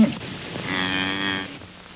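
A cow on a farm lets out one long, loud moo close by, rising and holding before trailing off, with no voices.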